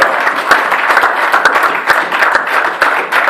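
A church congregation applauds in praise of Jesus Christ, with dense, continuous clapping from many hands filling the room, loud and close, with faint voices mixed in.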